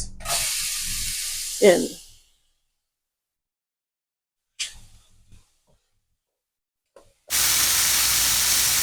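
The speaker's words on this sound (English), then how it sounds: "We're going to crank up the heat on this pan, and I'm going to add my veggies" Diced Anaheim pepper, bell pepper and onion hit a hot pan with a loud, steady hissing sizzle that fades out, followed by quiet clatter, then a strong continuous sizzle resumes to the end.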